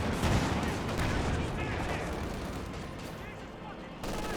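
Gunfire and a rifle grenade in the strategy game Company of Heroes 2: a dense, continuous barrage of shots and blasts at steady loudness, with a sharp jump in level near the end, and a commentator's voice underneath.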